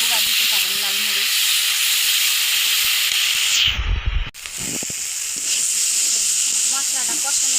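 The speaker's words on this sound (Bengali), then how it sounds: "মশলাটা ভালো মতো কষিয়ে নেব" Masala spice paste with green chilli sizzles loudly and steadily in a hot pan as it is sautéed, a constant bright hiss broken by a short dip midway, with a voice talking faintly underneath.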